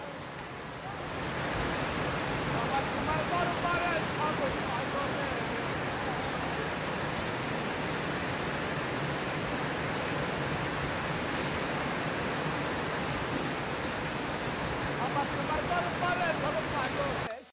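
A waterfall on the trail to Khoiyachora roars in a dense, steady wash of rushing water that holds at a constant loud level from start to finish.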